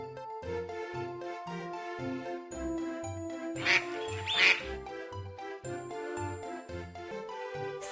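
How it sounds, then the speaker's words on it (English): Two short cartoonish quacks of a duck ring out clearly over a bouncy children's alphabet rhyme with steady bass and melody. "Quack, quack is the sound that you'll hear it make."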